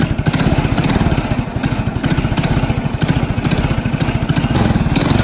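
A small, loud autocross racing kart engine runs close by with a rapid buzzing pulse, its pitch rising and falling slightly as it revs steadily throughout.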